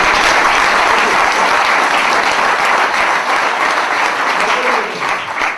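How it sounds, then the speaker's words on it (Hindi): Loud sustained applause from a large audience at a Safe Shop business talk, dense even clapping that fades slightly toward the end. "मैं चाहता हूं नरसिंह ग्रेवाल जी के लिए भी एक जोरदार ताली हो।"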